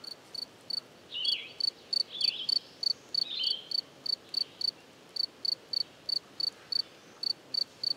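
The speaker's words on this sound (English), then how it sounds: "Here's a cricket." Cricket chirping in rapid regular bursts, picked up through a parabolic microphone, each pulse clear and sharp against a quiet background with no talk.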